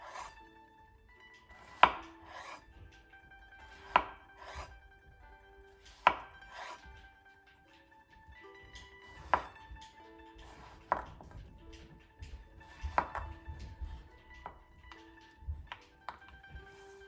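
Zucchini and yellow squash cut with a knife on a board, sharp isolated thunks landing every couple of seconds, then quicker lighter taps, close and clear with no talking.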